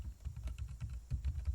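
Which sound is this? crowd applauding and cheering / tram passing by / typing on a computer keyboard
typing on a computer keyboard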